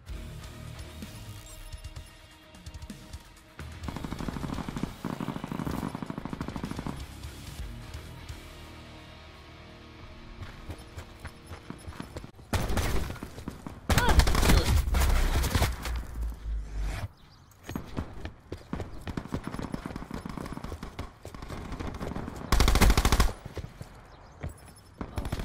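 Gunfire from a gun-game round of a video game: bursts of rapid automatic fire and single shots come in clusters, loud against quieter stretches with footsteps and ambient game noise.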